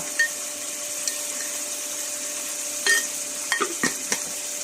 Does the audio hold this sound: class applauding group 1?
no